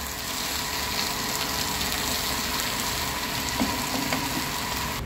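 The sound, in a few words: potatoes and peas being sautéed in a pan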